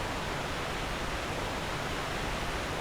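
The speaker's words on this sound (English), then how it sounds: "Here's the source of all that noise, just a giant waterfall." Steady broadband roar of a giant waterfall in the video game Dark Souls 2, constant and unbroken, moderately faint, with no voices.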